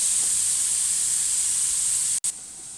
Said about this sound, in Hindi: आपको आवाज़ भी आ रही होगी पैन से।